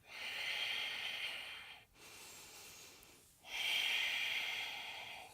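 Ujjayi breathing during a moderate yoga flow: two slow, soft, hissing breaths close to the listener, a long exhale then a fuller one after a short pause, with no talk.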